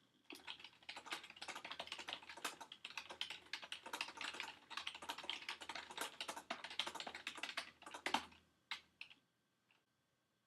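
Rapid, steady typing on a computer keyboard, close and clear, with irregular key clicks running for several seconds before stopping into near silence.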